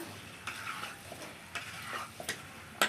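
Chili powder being stirred into a curry in a pan, with soft scraping strokes and a low sizzle underneath. A few sharper clinks of the spoon against the pan come through, close and fairly quiet.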